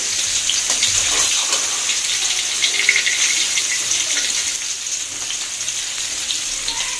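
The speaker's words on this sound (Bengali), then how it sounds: "তো মাছ ভাজি করতেছি" Fish sizzling and spitting in hot oil in a pan, a steady broadband frying hiss that stays loud and close without pause, no voices over it.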